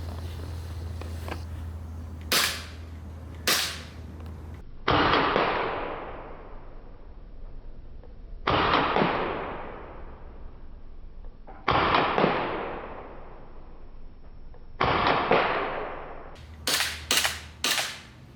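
Several sharp cracks from a UMAREX Glock 17 Gen 4 airsoft pistol ring out, with a few quick pops at the start and end and four louder, spaced shots between them, each trailing a brief hiss, close up.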